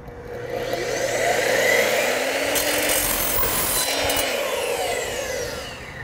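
A power tool cuts through soft copper pipe on a pergola and deck build, making a close, continuous abrasive grinding and rasping that swells and fades over several seconds, with no voices.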